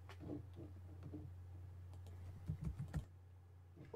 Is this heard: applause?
no